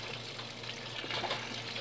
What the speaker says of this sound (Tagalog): Hugasan natin isa-isa yan